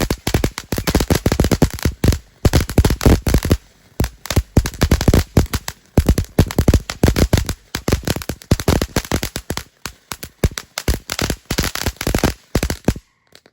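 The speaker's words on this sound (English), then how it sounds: "Phantom Fire Fountain. So go ahead and hit it whenever you're ready." A Phantom Fireworks Star Light III fire fountain firework crackles and pops continuously for over twelve seconds, dense rapid bursts loud and near with brief gaps, ending abruptly, no talking.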